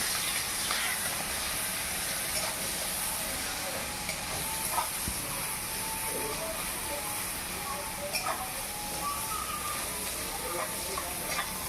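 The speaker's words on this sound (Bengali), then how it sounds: "পেঁয়াজটাকে ভেজে নিই।" Chopped onions with a pinch of salt fry in a pan for an egg and bottle-gourd poppy-seed dish, giving a steady, close sizzle with light stirring scrapes throughout.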